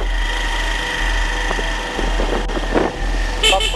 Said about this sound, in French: Nous sommes sur le taxi-moto.